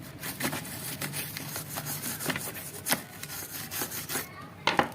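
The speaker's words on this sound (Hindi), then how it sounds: "एक बार और थोड़ा साफ कर लेता हूँ।" Close, quiet rubbing and scraping while a radio part is cleaned during a repair, made up of repeated short strokes and light friction with a few sharper scuffs.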